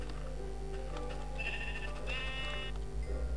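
Sheep bleating in the Minecraft video game, two clear bleats in quick succession, the second longer, heard over a steady low game hum with no talking.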